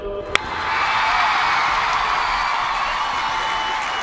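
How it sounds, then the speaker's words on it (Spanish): A group at a pool games challenge bursts into applause and cheering after a sharp snap, a loud, continuous crowd roar of clapping and whoops that holds steady throughout. "Un aplauso."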